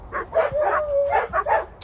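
A big dog gives a quick run of about six short, sharp barks and yips, close by and fairly loud, outdoors near a ryegrass field.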